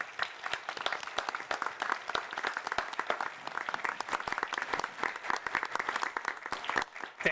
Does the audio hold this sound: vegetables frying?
no